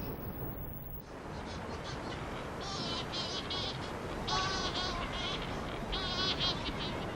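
Strange wailing shearwater calls repeat in bursts at night over steady surf noise on the coast, some near and others farther off.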